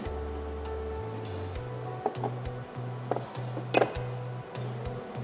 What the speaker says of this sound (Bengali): আমি এখন এখানে রসুন বাটা দিচ্ছি 1 চামচ